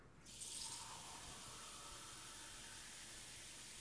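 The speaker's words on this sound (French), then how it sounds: "J'ouvre mon robinet." Tap turned on and water running into a glass, a sudden hissing gush that settles into a steady faint stream, close and alone without talk.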